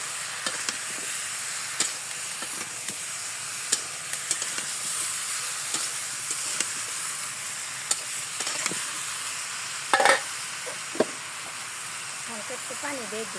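Bottle gourd curry sizzles in a pan with a steady soft hiss, broken by scattered clicks and scrapes of stirring, fairly faint and close, with a brief louder clatter near the end.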